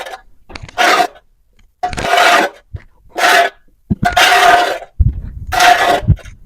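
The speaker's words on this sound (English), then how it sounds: "this is to ensure proper mixing of this rice bran with the sawdust" Rice bran being mixed by hand into sawdust for oyster mushroom bags, heard as a series of loud, rough rasping scrapes in bursts of about half a second, coming close up with short pauses between them.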